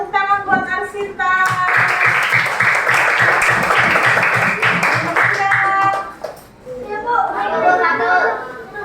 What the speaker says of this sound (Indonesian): Tepuk tangan buat Arsinta